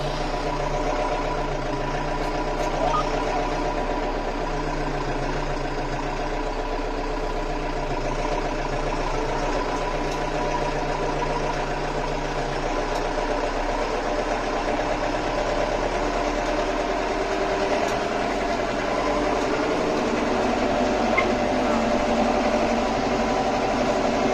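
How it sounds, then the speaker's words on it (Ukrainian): A tractor engine idles and runs steadily for the whole stretch, a constant low drone with mechanical vibration and no voices. "Трактор виїхав вже на лінію."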